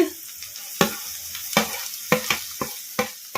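Crushed cluster beans hit a pan where green chillies and coriander are already frying, and the sizzle comes with a series of sharp stirring clacks at an uneven rhythm that stand out clearly over a soft hiss.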